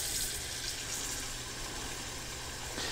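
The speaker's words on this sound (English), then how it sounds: "get some water running in here for" Tap water runs steadily into a pot being filled for canning pickled eggs, a soft continuous rushing hiss heard alone at low level.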